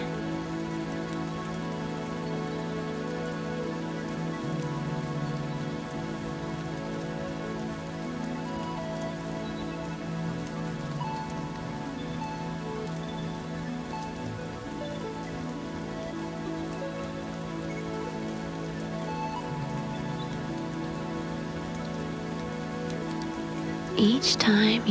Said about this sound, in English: Listening to the mesmerizing Moshi rain